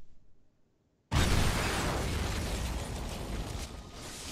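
A grenade blast in the video game The Matrix: Path of Neo hits suddenly after a short near-silence: a loud, broad boom that rumbles and crackles for several seconds as it slowly fades.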